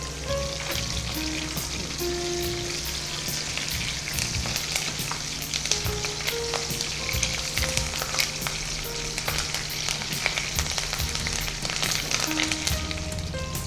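Green chilli and curry leaves fry in a pan for a dense, continuous close sizzle, crackling and spattering throughout with faint stirring, with no talking.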